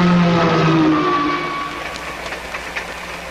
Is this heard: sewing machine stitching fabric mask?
no